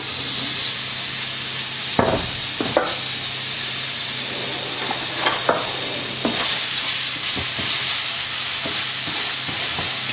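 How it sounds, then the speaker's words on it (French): Continuous loud sizzling and hissing of onions frying in a hot pan over high heat, broken by occasional scraping stirs, with no voices. "on va mettre les oignons à suer légèrement"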